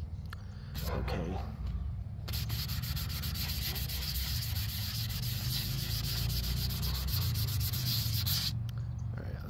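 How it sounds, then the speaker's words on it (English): Sandpaper rubs back and forth over the painted finish of an Estes Hi-Flier XL model rocket in continuous, close, scratchy strokes, with brief pauses between passes. "Let me get some of this sanded."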